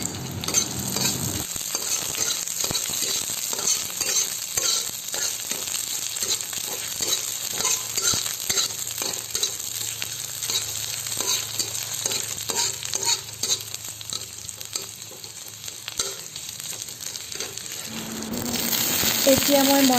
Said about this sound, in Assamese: তাতে মই কাটি ৰখা পিঁয়াজখিনি দি দিছোঁ। পিঁয়াজখিনি এনেকৈ লৰাই আছোঁ।